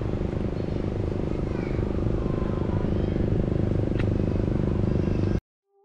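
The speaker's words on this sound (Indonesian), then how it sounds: "Oke, drone saya sudah terbang teman-teman." A camera drone in flight above the JORR 3 Kataraja toll road works, a steady close buzzing whir that holds evenly for about five seconds before cutting off abruptly, with no voices.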